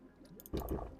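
Brief liquid gurgle and fill sound as water is collected in The Planet Crafter, a short wet splashy burst rising abruptly after a quieter lead-in of game ambience.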